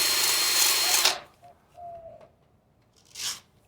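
A rotary disc grinds and polishes a stone as a loud high whirring burst that cuts off, then a faint motor whine and a second short burst of grinding.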